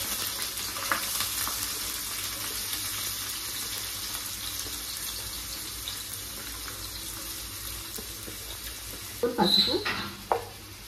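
Onions with a bay leaf frying in hot oil for a brinjal and crab curry, giving a steady, close sizzling hiss throughout that ends with a few brief clattering stirs.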